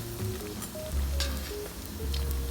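Pempek Palembang fish cakes fry in hot oil, giving a steady close sizzle with occasional bubbling pops and faint stirring, with no talk over it.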